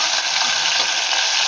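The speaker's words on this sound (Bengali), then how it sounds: "তরকারিটা একটু ভালো করে ভেজে নেব, যাতে কুমড়োর কাঁচা ভাবের গন্ধটা না আসে।" Pumpkin and potato curry with chickpeas frying in a pan for a vegetarian dish, giving a steady, close hiss of sizzling oil with faint stirring, no talk.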